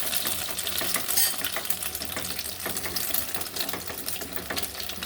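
Batter mixture poured into hot oil in a kadai (wok), frying into crisp, puffed fritters: a dense, steady sizzle with fine crackling throughout, close and fairly loud, with no talking.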